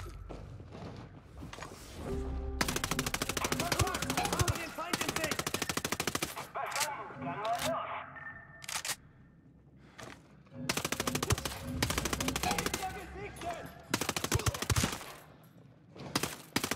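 Cannon and automatic gunfire in the video game Ghost Recon Breakpoint, with bursts of rapid heavy shots separated by brief lulls, loud and close throughout and mixed with game sounds.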